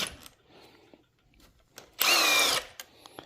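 Power tool spinning out a cam sprocket bolt on a Subaru 2.5L WRX STI engine, one loud whirring burst of about half a second, close up, framed by small metallic clicks and handling sounds.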